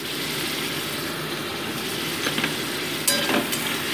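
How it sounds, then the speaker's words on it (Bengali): Spice paste with salt, turmeric and a splash of water sautés in a pan for a prawn and pumpkin curry, a steady moderate sizzle with a few scrapes of a spoon toward the end. No talking. "হালকা একটু কষিয়ে নিচ্ছি এটাকে"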